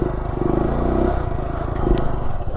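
Honda Grom motorcycle doing circle wheelies in a stunt lot, a steady mid-pitched engine drone with slight rises and falls in revs, fairly close with no talk.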